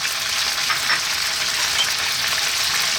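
Onion and chopped garlic fry in a pan for a chicken tomato stew, giving a steady, close hiss of sizzling oil with no voices.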